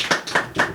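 A few people clap in three spaced, loud bursts, close by and short, with no talk over it, in a studio chat with an Indonesian volleyball player.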